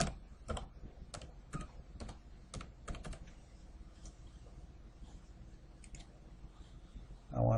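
Someone types on a computer keyboard in close, crisp clicks: a brisk cluster of keystrokes early on, then a few scattered taps over a quiet room hum, ending with a louder final click.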